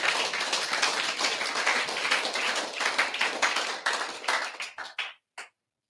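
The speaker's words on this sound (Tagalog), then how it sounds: "Palakpak naman" Audience clapping at a marketing-plan presentation, a dense burst of many hands that thins out into a few scattered late claps before stopping.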